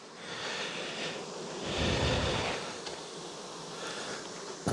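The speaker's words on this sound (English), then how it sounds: "Look at the bees on there." Honey bees swarm thickly over a hive frame at an outyard apiece during early honey flow, a dense steady buzzing close by that swells midway through and ends on a sharp knock.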